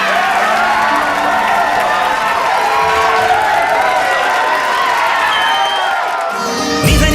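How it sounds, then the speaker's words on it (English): A school audience at a Grade IV primary event cheers loudly and continuously, a dense wash of children's shouts and whoops with some clapping, fading toward the end. "all audience please cheer for my mummy Radhika"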